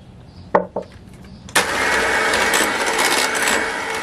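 Two short clicks, then an electric mixer whirs on abruptly and runs at a loud, steady buzzing drone while beating cake batter, close by.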